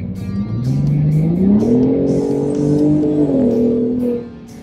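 Ford F-150 Raptor pickup with its exhaust set to low mode, revving loud and close; the engine note climbs, holds a steady high drone, then drops back as the throttle is released, with no talk over it.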